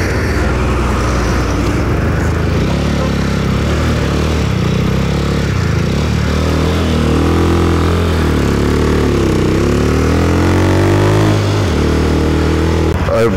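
A sports motorcycle climbs an uphill road, its engine loud and close throughout with steady droning and rising revs as the bike pulls up the slope, no talk over it.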